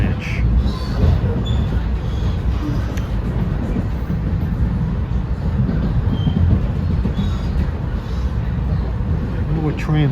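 A Norfolk Southern freight train rolls past on the line near Edison, New Jersey, a heavy, continuous low rumble and clatter of wagons that stays loud throughout.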